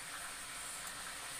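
Onion and garlic frying in a pan for chicken chakhchoukha, a steady broadband sizzle and hiss holding at an even level throughout with no voices over it.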